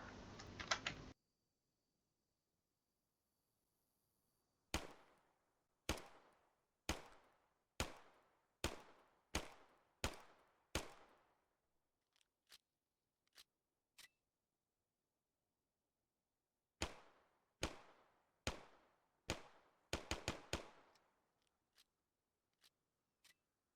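Luger P08 pistol firing in Arma 3: a string of sharp, evenly spaced single shots, each with a short decaying tail, then quieter clicks, then another run of shots that quickens into a rapid burst before a few last isolated shots.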